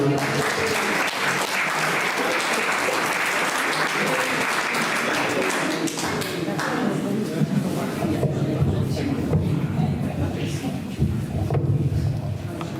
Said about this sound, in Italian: Un applauso a Pierino